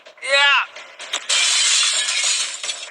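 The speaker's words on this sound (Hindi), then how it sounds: "ये कांच तो चकनाचूर हो गया" Glass shatters loudly during a bank-robbery challenge game, a bright crashing burst that rings on for about two seconds, following a short burst of excited shouting beforehand.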